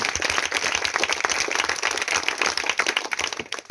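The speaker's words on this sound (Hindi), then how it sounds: "एक बार जोरदार तालियों से सम्मानित किया जाए।" Dense, continuous applause from an audience at a Hindi-language DXN meeting, steady loud clapping filling the whole stretch with no voices over it.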